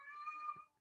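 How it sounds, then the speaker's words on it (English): A house cat gives a single short, clear meow nearby, trailing off at the end, heard on its own. "that is my cat."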